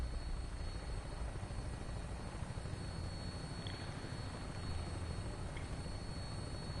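Vertibird aircraft taking off in Fallout 4, a faint continuous rotor and engine drone with a steady low-frequency throb and no talk.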